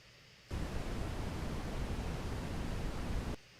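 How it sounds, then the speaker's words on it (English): A steady hiss of synthesized red noise switches on abruptly, holds evenly for about three seconds with a heavy low-end rumble, then cuts off. "red noise, which is going to have a larger, lower frequency component"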